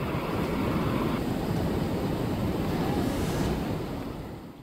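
Strong floodwater rushes past a van stuck in the middle of a swollen current, giving a loud, continuous roar of churning water mixed with wind buffeting the microphone, with no voices.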